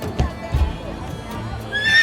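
A horse whinnies in a medieval jousting-field setting, a short, fairly loud call over low rumbling movement, with a brief higher tail at the end.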